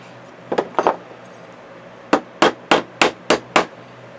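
A hammer strikes 3/8-inch staples into a frame, first with a few scattered hits and then with six evenly spaced, sharp knocks. Each blow rings close and clear with no one speaking.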